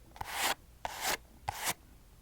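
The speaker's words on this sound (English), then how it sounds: "can you tell me when this brushing sound stops, please?" Three slow, close ASMR brushing strokes, each a soft rasping swipe lasting about a third of a second, separated by short quiet gaps.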